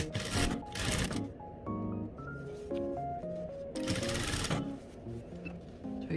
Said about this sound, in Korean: 아래쪽부터 이제 그래서 박음질 시작할게요